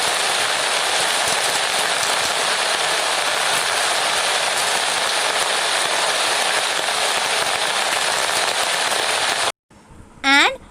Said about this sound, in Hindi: बारिश की बूंदें अम्ब्रेला पे गिरती है